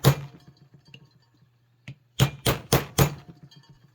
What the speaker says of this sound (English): This is soft enough that I can hammer it over.